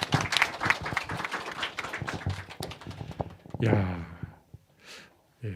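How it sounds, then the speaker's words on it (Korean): A church congregation gives congratulatory applause during a Sunday service, a loose patter of clapping for a few seconds before a voice speaks and the sound fades to near silence. "우리 축하의 박수 드리겠습니다"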